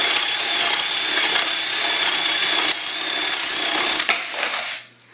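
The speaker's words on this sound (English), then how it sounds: "So we'll just drill another one." A RIDGID X4 18V cordless drill boring a hole through wood, a steady loud grinding whir that holds for about four seconds before catching briefly and cutting off.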